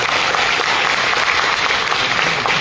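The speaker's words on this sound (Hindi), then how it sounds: "तो एक बार जोरदार तालियां संजय जी के लिए होना चाहिए" An audience at an MLM business workshop claps loudly and continuously, a dense, even wash of applause throughout.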